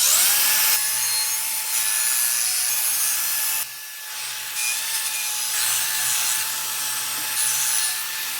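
An aluminum baseball bat is polished with a 240-grit pad and no sandpaper, making a steady, close-up rubbing and scrubbing in long repeated strokes with one brief break partway through.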